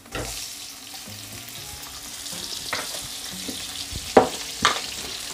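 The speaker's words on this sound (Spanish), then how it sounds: "Y le vamos a echar la cebollita que hemos cortado en juliana." Julienned onion frying with garlic in a pan sizzles steadily while a utensil stirs it, sharp clacks standing out near the end, with no talking.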